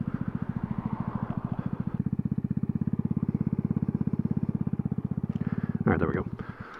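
A motorcycle engine ticks over near idle after slowing down, a loud, close, steady pulsing throb that holds throughout, with a short clattering rattle near the end.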